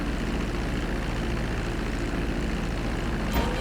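A plane flies in GTA Online with its cops-chasing drop-off mission, giving a steady droning propeller engine hum throughout, with a brief whoosh near the end.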